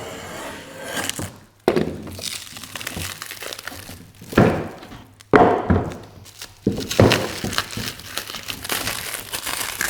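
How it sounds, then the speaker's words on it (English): Plastic sheet peeled off a dried, glued bent wood lamination: close crinkling and crackling tears in several pulls, with sharp snaps as it releases, no talk. "So hopefully the plastic will peel off the top where the glue kind of leaks through."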